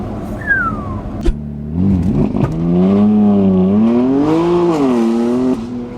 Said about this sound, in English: Listen to that exhaust, guys. That is just crazy loud.